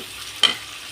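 Onions sautéing in oil in a pan give a faint, steady sizzle, broken by one brief stir or scrape partway through, close and with no talking.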